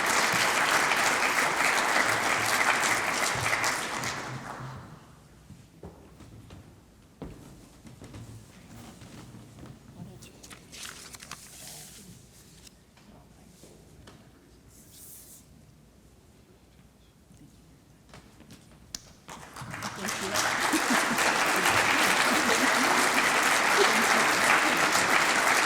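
Graduation audience bursts into loud, sustained applause for about five seconds, falls to a quieter stretch of murmuring and scattered sound, then erupts again into full clapping near the end.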